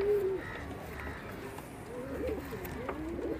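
A domestic Bajra pigeon coos softly in a quiet home setting, low repeated cooing calls that are faint and close, with some background noise and no talk.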